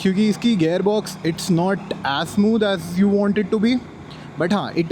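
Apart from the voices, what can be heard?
None of the usual background noises is heard.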